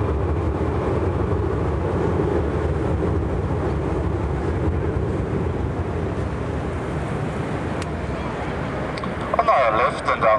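A tram crosses the Nibelungen Bridge over the river, producing a loud, steady rumbling roar that holds throughout, with brief rattling near the end.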